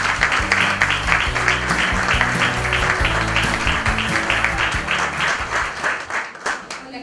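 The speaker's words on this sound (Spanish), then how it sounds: "lo vamos a recibir al doctor y por supuesto a Yael Hasbani con un muy fuerte aplauso" An audience gives a loud, sustained round of applause to welcome a doctor and a guest speaker at a conference on dietary fiber, with dense clapping throughout that thins out toward the end.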